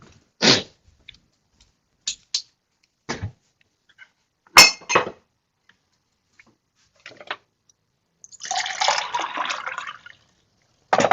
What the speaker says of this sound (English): I need to get some water.